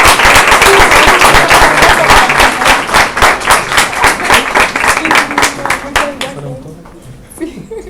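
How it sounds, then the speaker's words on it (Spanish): An audience at an obstetrics conference in Puerto Montt bursts into loud, rhythmic clapping, some of it nearly in unison, that thins and fades over several seconds until only a few scattered claps remain, with faint murmuring at the end. "así que le voy a pedir un gran aplauso"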